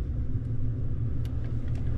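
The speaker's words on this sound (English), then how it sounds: "Start the car." A 2014 Toyota Tundra engine idles with a steady, low, close rumble, running evenly without revving.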